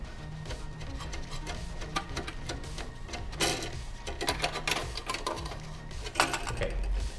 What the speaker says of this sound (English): With 12 millimeter wrench key, unlock